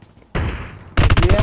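An AR rifle fires in a shooter video game: a loud burst of rapid automatic shots with heavy recoil, close and harsh, preceded by a brief quieter shot.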